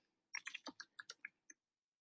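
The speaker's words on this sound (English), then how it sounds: "I'm going to go back to my document and I'm going to type in anthropology" Quick bursts of keystrokes on a computer keyboard, about eight crisp clicks in a rapid uneven run over roughly a second, close and fairly quiet with no voice.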